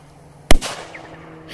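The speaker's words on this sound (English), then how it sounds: "I think the Polish firecrackers win. Definitely loudest." A small Polish JC05 FP3 banger firecracker goes off in a single sharp, loud crack that echoes and fades quickly, with no talk around it.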